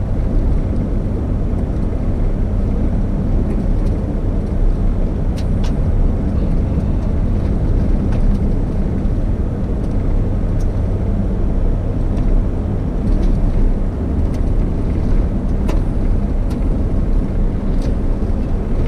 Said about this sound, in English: Here's a vehicle coming the other way. Two vehicles.